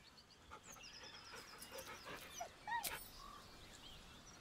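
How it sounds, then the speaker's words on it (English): A dog whimpers nervously close by, with high thin whines and whistling cries mixed with breathy panting. A louder, sharper yelp-like cry rises near the end. "The dog whimpers nervously"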